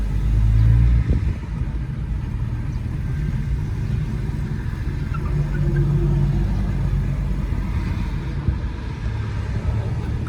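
A 1933 Cadillac V12 Town Coupe engine running, a steady, fairly loud low rumble that holds an even level throughout, with no talking.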